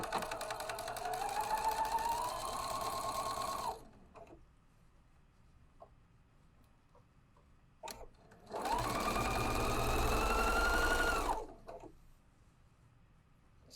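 A sewing machine stitches a quarter-inch seam through aligned fabric in two steady whirring runs of a few seconds each, separated by a quiet pause, close and clear with no talking.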